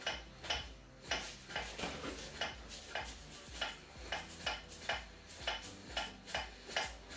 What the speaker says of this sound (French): la sauce pois, elle est en train de commencer à monter en pression